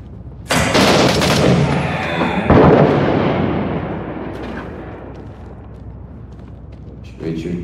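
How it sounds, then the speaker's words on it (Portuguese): Heavy blasts and gunfire in the war video game Six Days in Fallujah, with two loud explosive bursts followed by a long rumbling decay and scattered shots, while a voice talks over the battle. "O cara tá jogando RPG ali"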